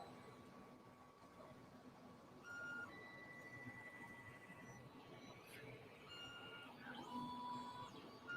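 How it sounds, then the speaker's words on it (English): Creality 3D printer running a print, stepper motors whining in shifting tones and short buzzing moves over a steady fan hiss, quiet and close with no talk. "So let's see the printer."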